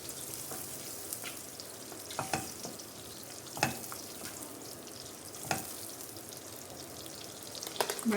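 Butter melting in a pan on a gas stove for butter chicken, a faint steady sizzle with occasional small pops and stirring sounds, no talking.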